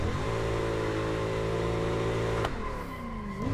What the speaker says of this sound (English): I'm like over revving in second gear